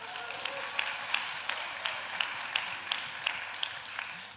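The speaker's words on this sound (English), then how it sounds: "Big round of applause to Judy, please." A small audience gives a faint, distant round of applause for a board member at a single-payer healthcare talk, a thin steady patter of claps lasting several seconds.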